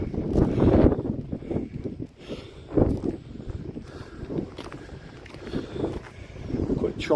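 Choppy sea and gusting wind along the coast near the lighthouse at Portland Bill, with rushing waves and buffeting wind noise rising and falling close to the microphone.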